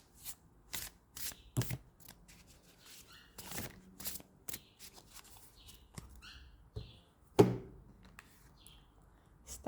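A deck of oracle cards is shuffled in a run of crisp riffles and flutters, close and fairly quiet, with short pauses between bursts and one sharper slap near the end, no voices.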